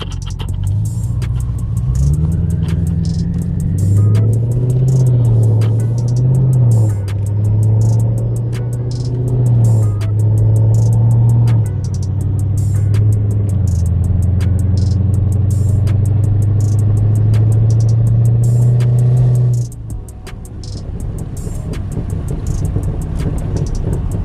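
BMW 650i with a Stage 2 tune, its engine revving hard in a loud, steady, close roar with rising and falling pitch that holds for about twenty seconds and then cuts off abruptly, followed by a lower idle, with no talking.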